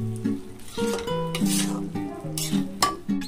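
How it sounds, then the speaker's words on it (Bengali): Fried aubergine pieces are stirred into a sizzling spice mix in a pan for a small-fish curry, giving soft scraping and frying sounds under a stepped background melody, close and moderately loud. "এবার ভেজে রাখা বেগুনগুলো আমি দিয়ে দেব। দিয়ে ভালো করে মশলার সাথে মিশিয়ে নেব।"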